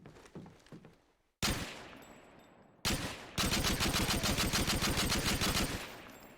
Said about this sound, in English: Let me try shooting against the wall.